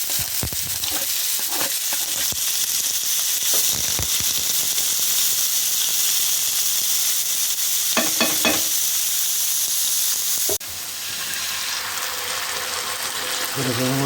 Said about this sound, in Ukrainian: Отправляємо підсмажиться цибульку на соус для перчика